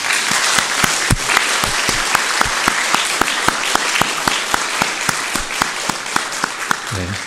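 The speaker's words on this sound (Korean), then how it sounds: "우리 자녀들을 위하여 우리 박수 한번 크게 보냅시다." Church congregation at a Christmas thanksgiving service applauds for the children, a loud full wash of clapping with sharp, regular beats running through it, and a voice briefly sounding at the very end.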